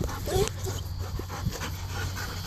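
Dogs pant softly and whimper in an outdoor dog park, with quick breathy rhythms close by and a faint yip or two over a low background hum.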